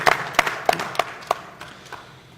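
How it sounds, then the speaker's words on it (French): A handful of sharp, separate claps ring out on a televised panel set, spaced unevenly and fading quickly over a couple of seconds. "un grand applaudissement"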